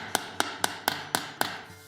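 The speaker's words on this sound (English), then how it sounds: "come in with rounded raising hammer there, and all the flat spots there" A rounded raising hammer strikes copper sheet resting on a shot bag while shaping a bikini piece, giving six crisp, evenly spaced metallic taps at a steady rhythm, close and moderately loud with no talk.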